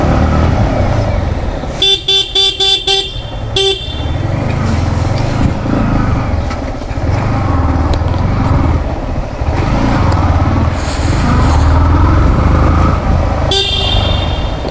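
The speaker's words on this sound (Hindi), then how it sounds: "हॉर्न भी सही है, बहुत सही है हॉर्न।" Horn of a 2022 Yamaha MT15 V2.0 motorcycle honks in a quick burst of about five short toots, then a longer blast and another toot later, loud and close over steady road and traffic noise.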